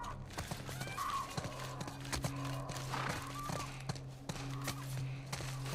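Horse in The Last of Us Part I shifts its hooves with soft clip-clop steps and a low whinny or snort, quiet and close amid faint ambient hum in an indoor university setting.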